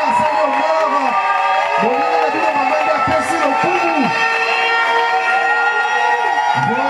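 A wedding crowd cheers and applauds for a guest of honour, lively whoops and shouts over clapping, with a loud announcer's voice and music running through it.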